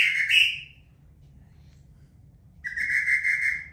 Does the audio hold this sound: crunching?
no